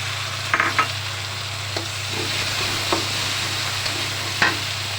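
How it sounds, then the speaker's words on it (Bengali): Onions fry with mustard paste, turmeric and salt in a pan, giving a steady low sizzle broken by occasional spoon scrapes and light clinks, close and without talk. "আমি সরিষা বাটাটা আর হলুদ লবণ দিয়ে দিয়েছি পেঁয়াজ ভাজার ভিতরে"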